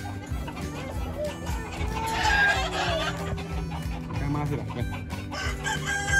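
A rooster crows and hens cluck nearby on a ranch in San Juan Mixtepec, Oaxaca, over a steady background hum, with faint voices and a little laughter mixed in.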